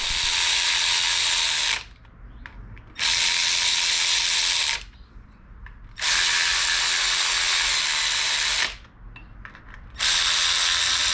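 A hand wrench ratchets while torquing the oil pan bolts on an LS V8 engine, close rapid clicking in four sustained bursts separated by short pauses.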